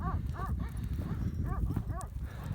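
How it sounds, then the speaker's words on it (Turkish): A flock of sheep bleats repeatedly from a distance, several overlapping calls in an irregular rhythm over low outdoor rumble. "oradan koyun sürüleri geliyor"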